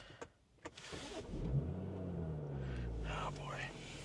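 A tuned BMW 340 xDrive pushing about 600 wheel horsepower turns over and fires from inside the cabin, then settles into a steady, full low rumble. A couple of sharp clicks come first.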